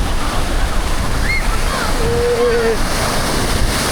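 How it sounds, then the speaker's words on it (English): Waves break on Portsea back beach under strong wind buffeting the microphone, giving a loud, steady roar of surf. "So this is a Port Sea back beach"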